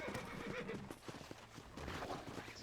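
A horse in the Red Dead Redemption video game whinnies and neighs amid clip-clopping hooves, with faint game sounds underneath.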